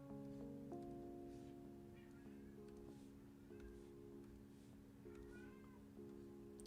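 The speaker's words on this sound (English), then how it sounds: "I hope you don't hear that cat." A cat meows repeatedly in the background, the short cries faint and coming every second or so under a steady low hum from indoor equipment.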